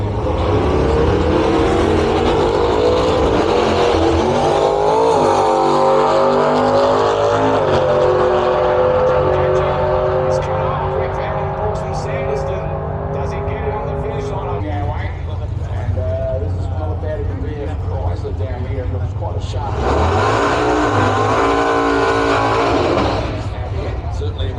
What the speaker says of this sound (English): Certainly a very nice little short, sharp, shiny burnout there from Aaron James, all the way from Martin